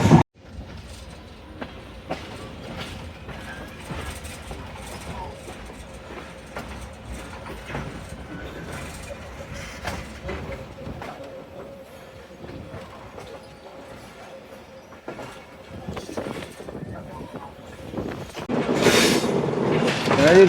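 The Karakoram Express rolls into Rohri town, a steady rumble of wheels with rhythmic clacks on the rails and a loud metallic squeal rising near the end, heard from on board.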